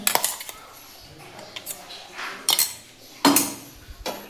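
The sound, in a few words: mixing ground spice paste into bottle gourd thalipeeth batter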